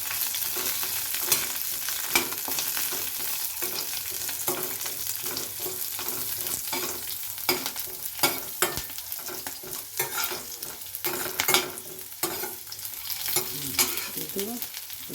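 Chillies frying in a hot pan for ridge gourd chutney, a steady crackling sizzle with frequent stirring scrapes and clinks, moderately loud and without talk.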